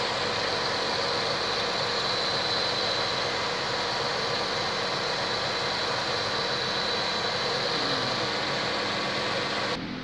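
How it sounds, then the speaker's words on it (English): The engine of a 2014 Dodge Grand Caravan minivan idles smoothly and continuously at close range, an even mechanical drone with no change in pace throughout. "how smooth or rough this motor is by a glass of water sitting on it while it's running"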